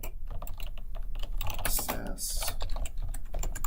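Fast typing on a computer keyboard while entering a new folder name in SAS Studio, with a quick run of close, crisp key taps and a voice speaking briefly.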